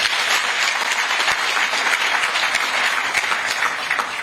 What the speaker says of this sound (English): We must clap a little bit more for him.